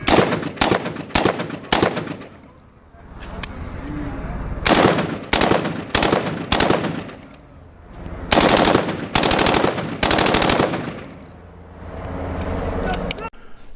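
Loud bursts of gunfire ring out close by in several rapid strings of shots separated by short pauses, with voices talking between them.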